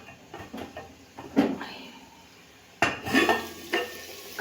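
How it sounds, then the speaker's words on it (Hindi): Potatoes being stir-fried in a pan, with soft frying hiss under several distinct clanks and scrapes of a utensil against the metal, coming in irregular bursts close by. "अच्छा भी 4 से 5 मिनट मैंने आलू को भून लिया है।"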